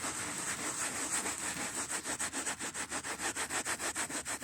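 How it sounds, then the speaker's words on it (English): A sofa's upholstery is scrubbed back and forth in circles during a deep clean, a close, steady brushing rub that settles into a fast, even rhythm of regular strokes, with no talk. "So rub, scrub, circles, back and forth,"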